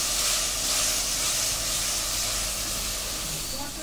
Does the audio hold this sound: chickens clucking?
no